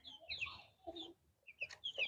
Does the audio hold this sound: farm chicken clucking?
yes